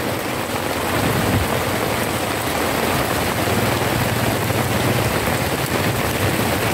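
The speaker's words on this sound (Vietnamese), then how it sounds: "Ngày đang mưa lớn các bạn ạ." Heavy rain pours steadily outdoors during a storm, a dense continuous hiss of falling water at close range with no speech over it.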